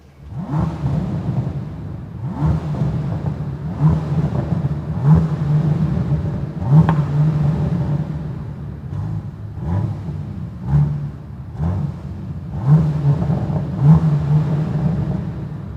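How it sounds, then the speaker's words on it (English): A powerful Bentley Continental GT Mulliner W12 engine revs repeatedly, rising and falling in a series of deep, rumbling surges, loud and close. "let's listen to the sound of the W12"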